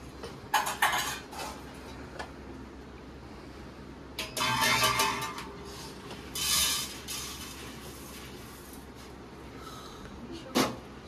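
Small bowls and dishes clink and clatter in a home kitchen in bursts of ringing knocks, close and fairly loud over a quiet background, with no talk.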